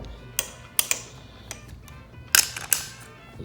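A wrench ratchets while tightening a part of a dipole antenna. It gives sharp, irregular mechanical clicks up close, with a tight double burst near the end.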